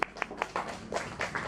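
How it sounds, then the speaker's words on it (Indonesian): Scattered, fairly faint hand claps from an audience at a seminar-style talk, a handful of separate claps spaced unevenly rather than a full ovation. "Tepuk tangan."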